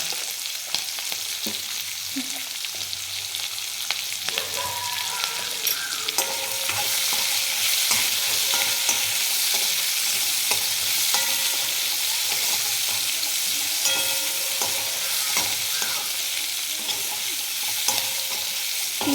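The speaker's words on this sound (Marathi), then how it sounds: "ते चार मिनटं याला असंच परतून घ्यायचं" Capsicum (shimla mirch) sautéing with garlic in a pan, a steady close sizzle and frying hiss with stirring scrapes, growing slightly louder after the first few seconds and continuing without talk.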